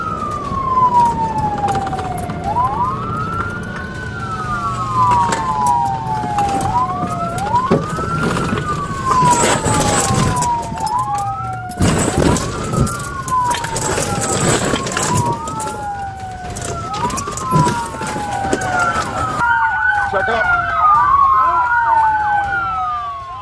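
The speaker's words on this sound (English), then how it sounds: "When emergency lights and sirens activated" Police car siren during a pursuit, wailing in long rising and falling sweeps that repeat steadily and loud, with a faster overlapping wail near the end and road rumble beneath.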